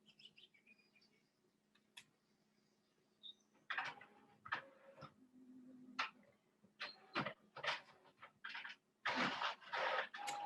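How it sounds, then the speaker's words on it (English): A home printer runs with irregular mechanical clicks, whirs and feed bursts, quiet at first then growing busier and louder in clustered pulses. "Did you hear how like now my printer is going?"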